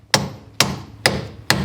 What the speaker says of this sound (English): And then with the hammer.